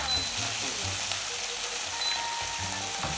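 Anchovies frying in garlic oil in a pan, a dense continuous sizzle heard up close, steady and loud with occasional crackles and light stirring, no talking over it.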